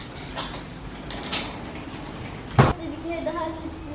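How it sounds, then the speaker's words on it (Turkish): A door pulled shut at home while balconies are washed, with a single sharp thud shortly after halfway through, following faint creaks and scrapes, in a quiet room. "Eve su girmesin diye kapıyı da hemen kapatalım."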